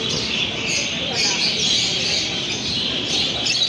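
Chirping calls of lovebirds, including orange-faced birds, at a bird show during judging, a dense continuous high twittering from many birds close by, with a low murmur of crowd talk underneath.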